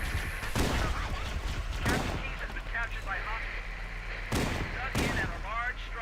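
Heavy shotgun blasts boom in Halo: Combat Evolved, several loud sharp reports spaced irregularly amid in-game combat noise and alien chatter, with a player's voice talking over parts of it.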